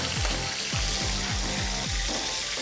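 Steady, loud sizzling of chicken frying in butter fills the clip, a dense frying hiss with soft low pops and bubbling repeating underneath, no voices.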